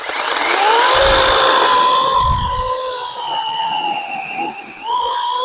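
Grand APTs-40A cordless battery chainsaw with a 16-inch bar biting through a thin branch of dry oak, a steady high whine that dips slightly under load, close and loud, with no talking.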